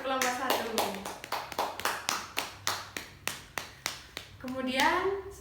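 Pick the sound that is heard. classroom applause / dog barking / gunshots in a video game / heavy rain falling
classroom applause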